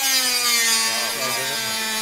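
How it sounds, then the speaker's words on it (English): Dremel rotary tool working on a hobby build, a steady high-pitched whine with a buzzy grinding edge, held loud and close for the whole stretch, pitch wavering slightly as it bites, with no talk. "Dremel warning, by the way."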